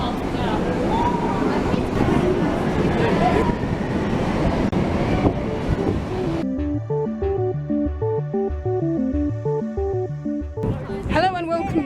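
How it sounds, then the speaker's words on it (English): A Berlin U-Bahn train at Checkpoint Charlie station rumbles and clatters loudly for about six seconds, then gives way to music. "Here we are at Checkpoint Charlie U-Bahn station, waiting for our next train."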